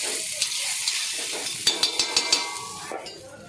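Bhakri pizza sizzles in butter on a hot pan, a steady frying hiss broken by a quick series of sharp metallic taps and scrapes from a utensil.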